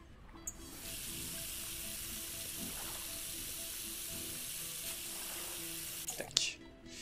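Water runs steadily into a pot on the stove in the Cooking Simulator video game, a continuous, fairly even hissing stream that fills most of the moment before stopping with a couple of small knocks near the end.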